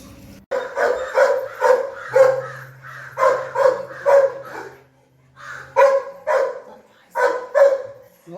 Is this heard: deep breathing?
no